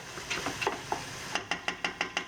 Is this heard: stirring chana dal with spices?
yes